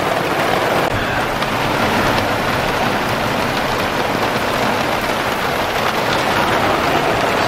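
Rain falling on a teardrop trailer on a hot, humid day, a dense, steady hiss and patter on the roof and surfaces, loud and close, unbroken throughout with no voices.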